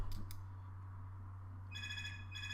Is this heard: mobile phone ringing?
yes